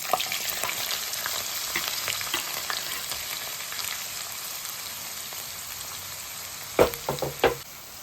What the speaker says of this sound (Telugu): ఉల్లిపాయలు ఇలాగ నూనెలో వేపుకున్న తర్వాత